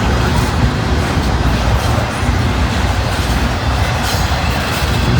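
A long intermodal freight train rolls past close by, its steady broadband rumble and rattle of cars continuous and loud throughout, with a faint hint of wheel noise.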